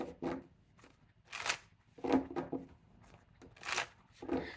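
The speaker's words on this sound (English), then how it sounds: "You saw me shuffle." Tarot cards shuffled by hand in several short riffling bursts, close and fairly quiet, with brief pauses between each pass.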